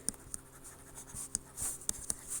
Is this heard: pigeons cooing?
no